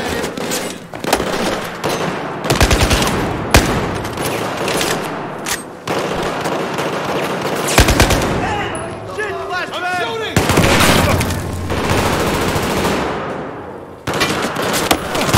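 Rapid bursts of automatic gunfire in a Battlefield 4 firefight, loud and close, with repeated volleys separated by brief pauses and a few shouted voices mixed in.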